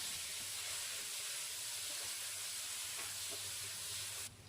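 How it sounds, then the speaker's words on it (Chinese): Diced tomatoes hit hot oil in a wok, giving a steady, close, broadband sizzle and hiss that holds evenly throughout, then drops slightly in level near the end. "锅中倒入油，油热后下入西红柿丁"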